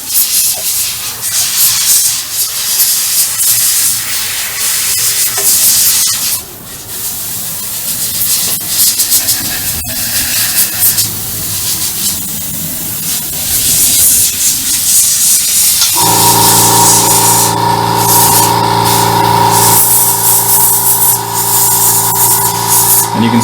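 Close airbrush-style spraying on a Stug III Ausf G scale model gives a continuous soft hiss with shifting intensity, followed by a steadier, louder hiss with a faint mechanical hum from the compressor.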